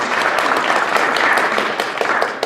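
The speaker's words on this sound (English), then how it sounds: "By a round of applause." An audience at an arts awards ceremony in Labrador City breaks into a steady round of applause, dense hand clapping from a crowd filling the hall throughout, easing slightly at the end.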